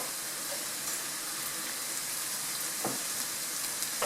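Leeks and other vegetables, carrot among them, sizzle gently in a pot for a pea soup, a soft, steady hiss with faint crackles and no talking.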